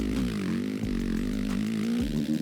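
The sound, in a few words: motocross bike engine over-revving in second gear, MX vs ATV Legends video game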